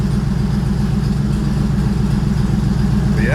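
A car engine idles at around 700 rpm with the idle speed settling down toward its target: a steady, loud, low rumbling drone with an even pulse, close by and alone, with no talk.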